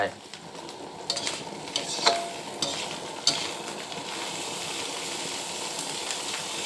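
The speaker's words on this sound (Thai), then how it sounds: "ใส่กุ้งลงไปครับ แล้วก็ทำการคั่วครับผม" Small freshwater shrimp stir-roasted in a hot pan, a steady close sizzle with scattered scraping clicks of a utensil against the metal.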